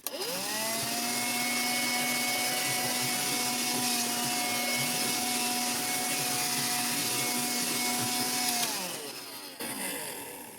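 An Electrolux AG403 cordless vacuum cleaner, fitted with a replacement battery, runs with a steady, loud whine for about eight seconds before it powers down and winds off.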